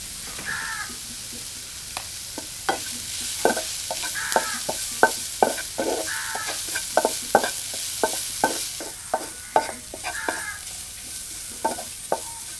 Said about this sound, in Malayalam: അര ടീസ്പൂൺ ഉപ്പും കൂടി ചേർത്തിട്ട് നല്ലോണം ഇളക്കി കൊടുക്കണം